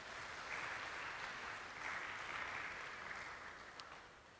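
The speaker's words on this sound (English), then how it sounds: "Please give them another round of applause." A crowd applauds steadily, a dense wash of clapping that slowly fades toward the end.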